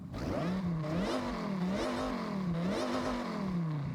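A supercharged Dodge Ram SRT10 pickup engine in Forza Horizon 6 revs repeatedly, its pitch rising and falling in a steady wavering cycle with a whining edge, loud and close throughout.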